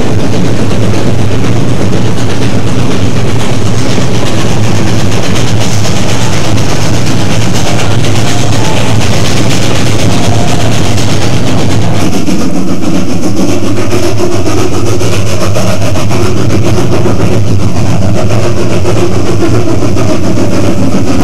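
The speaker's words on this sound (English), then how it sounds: "The chilly train on the return trip again crosses the Rio Grande River." A narrow gauge steam train rumbles loudly and continuously across the Rio Grande River on the return trip, a dense, steady mechanical roar that thins slightly partway through, with no voices.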